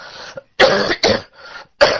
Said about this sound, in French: je vais beaucoup tousser